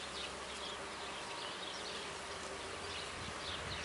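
Bees hum and buzz steadily around beehives during a spring hive inspection, a dense close swarm drone with no voices.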